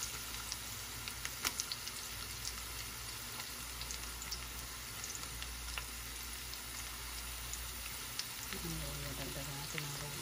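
Onion and ginger sautéing with fish bagoong in a pan, a constant close sizzle and crackle with small pops and occasional stirring, steady throughout.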